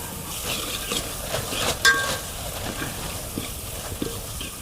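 Spices are stirred into a frying eggplant dish, a close sizzle broken by repeated scraping and stirring strokes of a spoon against the pan, with one sharper clink midway.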